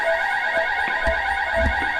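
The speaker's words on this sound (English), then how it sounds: "Alarm sound, and the room turns a blood red." A loud electronic alarm sounds continuously, a steady droning tone with a few dull thuds underneath, no voices.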